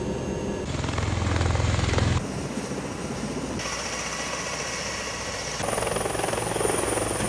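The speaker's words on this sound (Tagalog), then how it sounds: "Sakay ng U.S. Marine Corps V-22 Osprey, nagtungo si U.S. Ambassador Sung Kim at ilang U.S. military at State Department officials sa Corregidor" A U.S. Marine Corps V-22 Osprey tiltrotor aircraft at Corregidor gives off a steady, loud rotor and engine drone that holds without pause, with a few abrupt shifts in tone and level.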